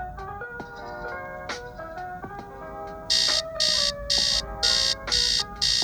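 An alarm clock rings in a bright, repeating electronic melody, then breaks into loud, rapid on-off beeping bursts in a steady rhythm, close and dominant, with no talking.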